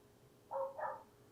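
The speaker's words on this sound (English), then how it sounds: "can you hear the dog?" A puppy next door gives two quick barks in close succession, a little muffled as if from a short distance away, with quiet background noise.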